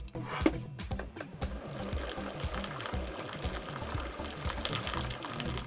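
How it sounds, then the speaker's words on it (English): Boiling water is poured over beans in a home kitchen while cooking miso tofu with stir-fried greens, a faint, steady splashing gush that runs without pause at low volume. "Now it says cover the beans with boiling water."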